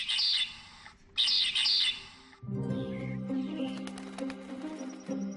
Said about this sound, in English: the medium ground finch sounds very much like this